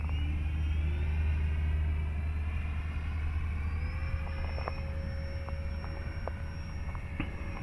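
A Habu 70mm electric ducted fan RC jet on a 3S battery flies at near-idle throttle, giving a steady whining hum with drifting tones over a low outdoor rumble at moderate distance.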